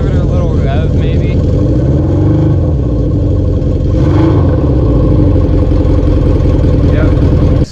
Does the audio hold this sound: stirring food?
no